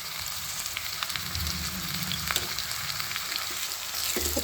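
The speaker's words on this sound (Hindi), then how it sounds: "और मसाले की अच्छी तरीके से बुनाई कर लेंगे" Spice masala for baingan bharta fries and sizzles in a pan with salt, turmeric, whole and red chilli powder, a steady close hiss with occasional scrapes of stirring, and no talking.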